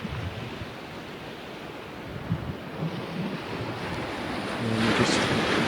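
Waves wash onto a sandy beach at Dornoch in Scotland on a sunny day, a continuous soft surf roar with wind buffeting the microphone, swelling slightly louder toward the end.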